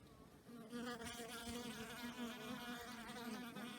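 Honey bees buzzing at the front of a nuc hive, a steady dense hum with layered wavering wing tones, close and continuous, with no voices.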